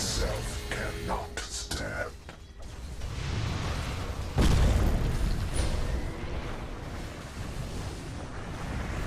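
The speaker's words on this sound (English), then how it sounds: "Radiant's middle tower has fallen." A Dota 2 tower collapsing: creaking, grinding mechanical noise builds, then a heavy crash and boom midway with rumbling debris afterward, amid ongoing game sound.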